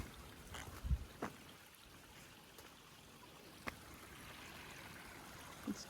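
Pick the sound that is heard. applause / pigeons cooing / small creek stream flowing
small creek stream flowing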